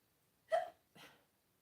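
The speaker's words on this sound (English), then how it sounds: "Did not have no hiccups before I began." Two quick hiccups close to the microphone, the first sharper and louder, the second softer, in an otherwise quiet room.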